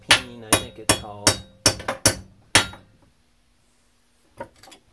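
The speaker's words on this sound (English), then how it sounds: "So we'll try the flat part of the hammer, the cross peen" Seven sharp metallic hammer blows on metal from a cross peen hammer while forming a latch part for a 40 mm grenade launcher ammo locking mechanism, ringing and evenly spaced, then a pause and two faint taps.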